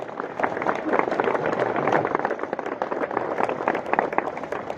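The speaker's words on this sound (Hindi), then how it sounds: "लेकिन हिंदी कविता के इस संवाद के लिए जोरदार तालियां बजाइए भाई" A kavi sammelan audience at a Diwali Mela in Udaipur, 2024, breaks into sustained, dense applause with crowd murmur, steady and fairly loud for the whole stretch.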